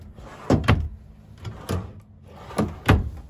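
Drawers in a 2015 Crusader 30BH RV slide open and shut, several close woody thuds and rolling knocks in two quick pairs with a softer bump between, alone and fairly loud.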